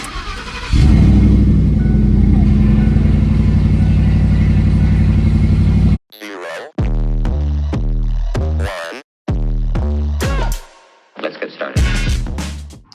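The Coyote-swapped 2008 Ford F-150 pickup's V8 runs with a steady loud rumble for several seconds, then cuts to choppy, gear-shifting engine bursts as it pulls away.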